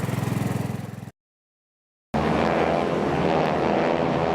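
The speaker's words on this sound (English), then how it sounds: "As the planes flew overhead" Aircraft pass overhead at an air show, including a biplane, with a loud, steady propeller engine drone that cuts out briefly and then returns just as strong.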